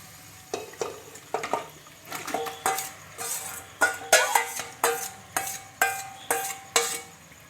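Marinated biryani ingredients with curd and salt go into a pressure cooker with a run of regular clinking, scraping stirs and taps of a utensil against the metal pot, close and moderately loud, with no talking.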